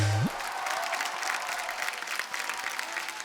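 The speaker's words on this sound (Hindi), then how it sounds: "जोरदार तालियां होनी सर चाहिए" A television comedy studio audience on the Kapil Sharma Show claps steadily, a dense, even patter of many hands that continues throughout with faint crowd murmur underneath.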